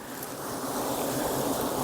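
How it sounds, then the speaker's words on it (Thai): Strong wind rushes in a steady, unbroken roar high up a tree where a wild bees' nest is being harvested, buffeting the microphone throughout with no talking. "ลมมันแรงนะ"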